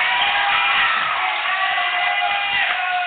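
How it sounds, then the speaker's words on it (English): Basketball crowd at a high school game roaring and cheering after an assisted dunk, a loud sustained wash of shouts and whoops filling the gym for the whole stretch. "an assisted dunk or a dunk nonetheless will always bring the crowd to life"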